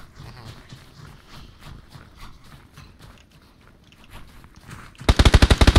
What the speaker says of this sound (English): Got the guy that was shooting at us from blue.